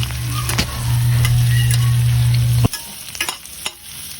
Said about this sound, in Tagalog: nag-igisa na po tayo ng ating bawang, sibuyas at siyempre yung ating squid ball